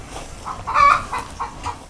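Pedigree roosters and other poultry in a farm enclosure cluck and call in a few short bursts, close and fairly loud, with no talk.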